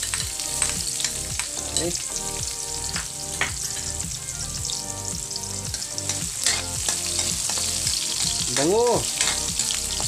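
Onion sizzles in hot oil in a pan while misua with patola is being cooked, a steady loud crackling fry with stirring scrapes throughout and a few brief spoken words.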